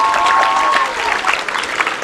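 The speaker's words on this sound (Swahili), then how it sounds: "Hamna makofi kwa hiyo kazi nzuri ambayo tunafanya." Applause from an audience at a parliamentary constituency event, a steady dense clapping that runs the whole way through and swells and dips slightly toward the end.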